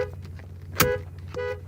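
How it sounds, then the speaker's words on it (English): Horn of a 1998 Pontiac Grand Prix GT sounding as its steering wheel is tested, a short clear honk followed by a second brief toot over a low idling engine hum. "we're gonna probably hear the horn"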